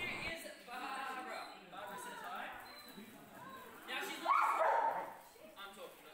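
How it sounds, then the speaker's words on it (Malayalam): A dog at a city farm during sheep shearing barks and yips a few times at moderate distance, mixed in with people talking. "ഡോഗ് അവിടെ കിടന്ന് ബാർക്ക് ചെയ്ത് തുടങ്ങി"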